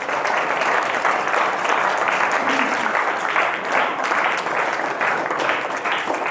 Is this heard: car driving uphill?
no